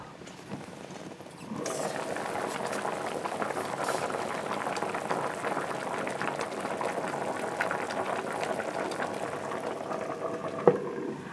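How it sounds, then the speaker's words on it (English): A pot of water comes to a steady rolling boil, bubbling and crackling continuously at an even level after a quiet start. "It's now boiling, guys."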